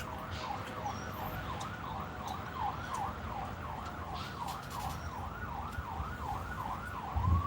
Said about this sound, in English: I never heard a town with more sirens.